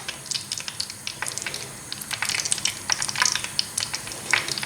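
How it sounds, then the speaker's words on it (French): Chebakia pastries deep-frying in oil at medium heat, a close, continuous bubbling crackle of sharp pops that thickens and grows busier toward the end, with no voices. "je les laisse cuire jusqu'à ce qu'ils prennent une jolie coloration dorée dans l'huile"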